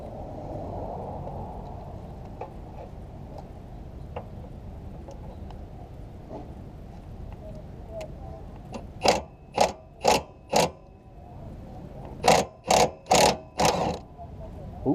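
A 2004-08 Nissan Maxima's CV axle bolts come off under an impact wrench: two clustered sets of loud rattling bursts, four then three, follow a stretch of faint clicks and low shop noise.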